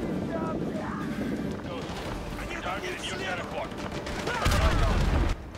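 Gunshots in a video game, with scattered shots and crackling fire under steady game noise and a voice, and a heavier burst of fire near the end.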